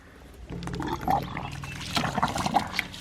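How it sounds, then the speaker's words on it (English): Dirty water gushes and splashes into a ram pump's spiral drive pipe after a valve is opened, rising into an uneven, churning flow with gurgles and bubbling, close by and fairly loud. "Let's go ahead and open this valve here to let water into the drive pipe"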